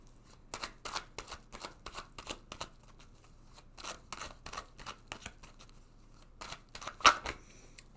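Tarot cards handled and drawn from a deck during a reading, a run of soft, crisp papery flicks and shuffles close by, fairly quiet with a louder snap near the end.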